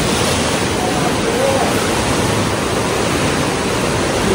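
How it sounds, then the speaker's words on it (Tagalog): Strong ocean waves crashing at a Japanese shore, a loud, continuous roar of surf with broadband wash and rumble filling the whole stretch, close to the microphone. "Grabe ang alon, guys,"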